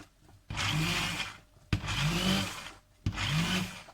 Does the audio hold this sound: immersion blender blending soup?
yes